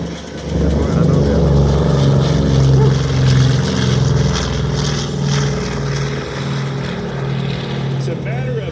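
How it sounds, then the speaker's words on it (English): A Douglas A-26 Invader flown at a Midland, Texas airshow makes a loud, steady piston-engine drone with a strong low throb, slowly fading as it passes. Speech rises over the engine noise. "The Douglas A-26 Invader. Jim Ryan at the controls. Listen in."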